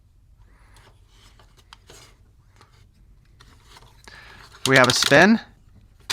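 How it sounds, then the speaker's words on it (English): A Transformers Studio Series Dinobot Snarl toy's ratchet joint gives a short burst of close, crisp plastic clicking, preceded by soft handling noises and a brief spoken remark. "you can hear that ratchet in there"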